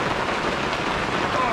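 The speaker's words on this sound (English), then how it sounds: "Well, we got thunder and lightning and heavy rain going on." Heavy rain pounds a log cabin during a thunderstorm, a loud, dense, unbroken roar of drops that fills the whole stretch.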